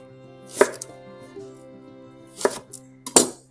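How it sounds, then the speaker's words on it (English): A knife cuts an onion into quarters on a cutting board, making three distinct chopping thunks close by with quiet gaps between them and no talking. "Here's the rest of that onion. I'm gonna just quarter that down at this point."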